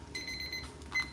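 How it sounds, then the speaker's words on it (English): A timer alarm sounds in quick bursts of high electronic beeping, faint and alone. "our timer is done"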